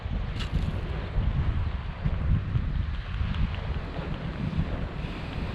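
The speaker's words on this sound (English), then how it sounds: "A little windy. I apologize if it's coming across." Gusty wind on a beach in the Northeast US buffets the microphone with a constant low rumble, rising and falling in strength throughout.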